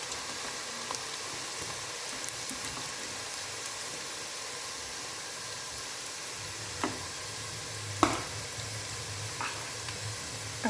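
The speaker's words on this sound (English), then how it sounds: "I have to fry it. It should be brown color" Beef sizzles and fries in a pan for a Naga-style beef chutney with salt and turmeric, a steady crackling hiss broken by a few sharp clicks and knocks of stirring, no talking.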